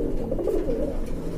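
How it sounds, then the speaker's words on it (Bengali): Pigeons cooing close by in a loft, with soft, wavering low coos repeating over a brief stretch. "আর কবুতরগুলো খুবই অ্যাক্টিভ রয়েছে"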